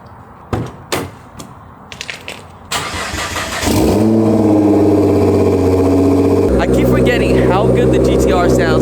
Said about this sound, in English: How good the GTR sounds. Like, it's a nice and deep rumble.